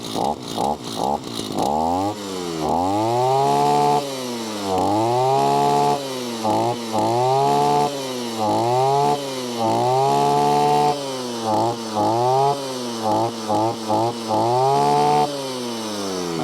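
A Husqvarna 541RS two-stroke brush cutter engine runs close by, revving up and down repeatedly in uneven bursts, loud and buzzy with a metallic rattle.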